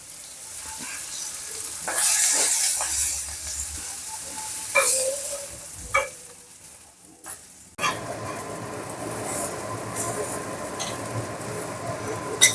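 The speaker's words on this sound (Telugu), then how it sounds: "మంచిగా వేయించుకోవాలి సిమ్లో పెట్టి." Vermicelli (semiya) sizzles steadily in a pan over a low flame for semiya upma, with occasional clinks and stirring scrapes and a denser, even frying hiss in the later part.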